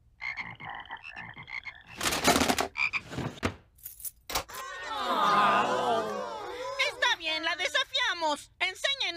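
A chorus of biology-class frogs croaking from a school drawer in The Simpsons, loud and overlapping in warbling bursts, with cartoon voices and commotion mixed in.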